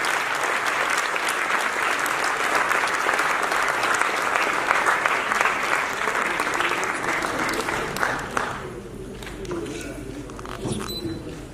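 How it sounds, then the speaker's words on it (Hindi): Loud, sustained audience applause at a cultural stage event welcoming guests, continuous clapping that tapers off near the end as a voice begins to speak. "जोरदार तालियां।"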